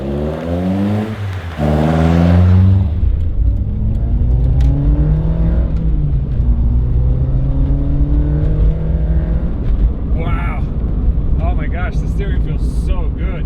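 A 1987 Toyota Corolla FX16 out on a short test drive, its engine droning steadily and loudly from inside the cabin, with rising and falling revs through gear changes and road noise.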